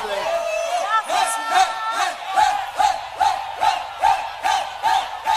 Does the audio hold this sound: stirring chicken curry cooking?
no